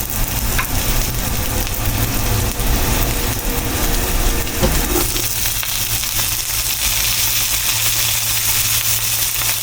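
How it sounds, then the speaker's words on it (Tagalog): Sliced bitter gourd is added to onion and garlic browning in hot oil, giving a loud, steady sizzle and crackle with a brief clatter midway, and the frying hiss continuing without talk. "Lalagyan na natin yung ating ampalaya."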